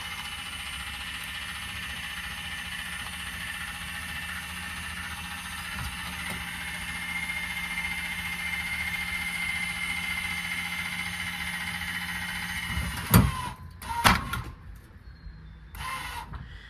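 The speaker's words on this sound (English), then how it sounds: "once you hear the motor wind down, and you'll actually be able to see the frame of the trailer kind of pick up a little bit" Electric stabilizer jack motor on a 2022 Aspen Trail 2880RKS travel trailer, a steady mechanical whirring hum that runs evenly for most of the clip before breaking into a few louder knocks and clunks near the end as it winds down.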